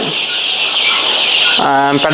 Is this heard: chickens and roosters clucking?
yes